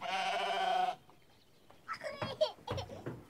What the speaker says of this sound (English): This is her white-faced Dartmoor lamb here.